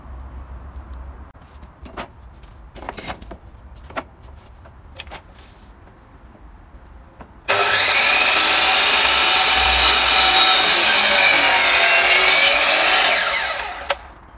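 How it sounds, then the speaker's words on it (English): A chop saw tilted for a bevel cut slices through wooden skirting board, a loud sustained whine starting midway and running about six seconds after quieter handling taps and knocks. "So I've tipped the chop saw over now to suit the angle of the bevel."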